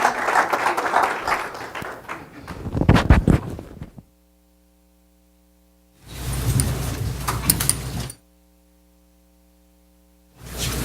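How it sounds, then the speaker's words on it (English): An audience at a city council meeting breaks into applause in two bursts, the first mixed with voices and fading out, the second a brief, steady round of clapping separated by near silence with a low hum. "Let's give a big round of applause for her service."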